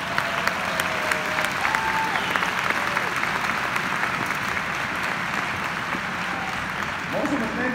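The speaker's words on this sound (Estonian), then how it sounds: "Teeme tegijatele suure aplausi!" An audience at a dance school's 25th anniversary winter concert in Rakvere claps steadily and loudly. The dense applause fills the whole stretch with scattered individual claps standing out, and a few faint voices sit underneath.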